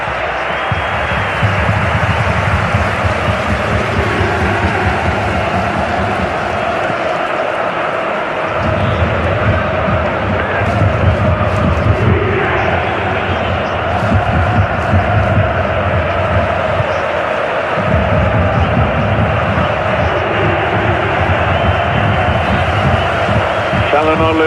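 A stadium crowd at a Turkey versus Georgia World Cup qualifier applauds and roars for Çalhanoğlu as he prepares a corner, a dense, steady wall of crowd noise with a commentator talking over it throughout.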